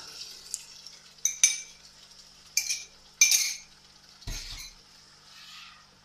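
A spoon stirs Sicilian-style sauce in a pot, giving a few scattered light clinks and scrapes of metal on cookware, fairly faint and close, with no talking.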